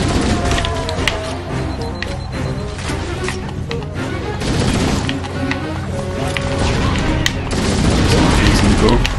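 Grenade explosions in the Halo CE video game boom repeatedly amid a steady clatter of gunfire, loud and continuous, with a voice heard at times.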